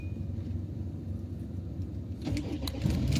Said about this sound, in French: Donc, oui, je laisse le moteur tourner.